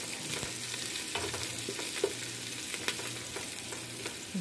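Garlic and onion frying in a pan, a steady sizzle under repeated scraping stirs and soft clinks of the utensil against the pan, close up and with no talk.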